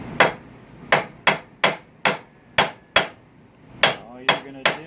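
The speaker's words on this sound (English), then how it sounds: "peening hammer and anvil" A peening hammer rings on steel against an anvil while bolsters are fitted to a handmade chef knife, about a dozen sharp, loud blows in an irregular rhythm, each decaying quickly.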